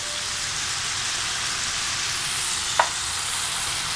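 Onions, garlic and jalapeno sautéing in a pan, a steady soft sizzle with one brief clink of utensil near the end, no talking.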